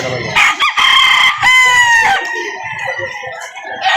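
A loud rooster crows close by, followed by chickens clucking and softer crowing in the background, at a chicken market in Lipa City, Batangas.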